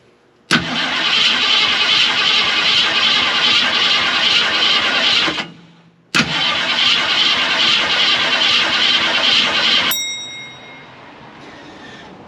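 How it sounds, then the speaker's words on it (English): A 1950 Ford F1 truck engine cranking over without starting, two long bursts of loud rhythmic starter churning separated by a short pause, followed by a fading tail of clicks and quieter cranking. "I'm just going to turn the engine over a little bit to see if it starts to draw fuel up through the line there."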